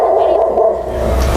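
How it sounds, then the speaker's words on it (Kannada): Dog barking in front of a house, a few loud, close barks and yips over a humming background, with no talk. "ಏನೋ ನಾಯಿ ಬೊಗಳ್ದಂಗೆ ಆಗ್ತಾ ಇದೆ ಮನೆ ಮುಂದೆ."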